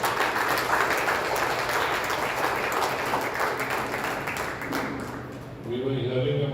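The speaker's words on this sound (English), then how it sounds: "So big round of applause" Warm applause for medal winners at a WVC 2023 Oman felicitation party: a dense crowd clapping steadily for several seconds, thinning out near the end as a voice starts talking.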